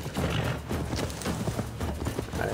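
Horse hooves in Assassin's Creed Valhalla, a steady busy clatter of clip-clop steps running throughout, close and fairly loud over game ambience.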